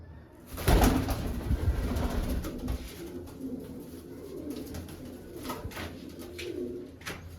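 Pigeons in a coop, a hen among them, give soft repeated coos at close range after a brief louder knock near the start, continuing in low murmuring waves.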